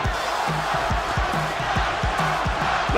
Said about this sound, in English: The crowd is turning.